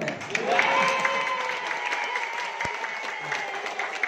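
Audience applause at an Indonesian talk, a steady wash of clapping from a crowd that stays fairly even throughout and tapers only slightly toward the end.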